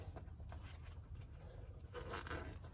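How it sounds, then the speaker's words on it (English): Zipper being pulled open on a fabric armrest cover in a Sprinter van, a quiet close scraping run that grows a little louder near the end. "open the zipper up,"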